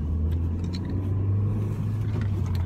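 A car driving in third gear gives a steady low engine hum and road rumble heard from inside the cabin, continuous and even throughout, with no talking.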